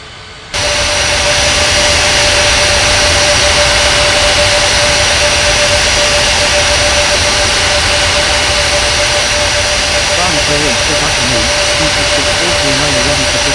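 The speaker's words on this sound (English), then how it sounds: "Bali Tower, Air India 4313 ready for takeoff on 27." Jet airliner taking off in the air traffic control game Unmatched Air Traffic Control, a loud sustained roaring engine whine with a steady high tone, starting abruptly and holding at full power.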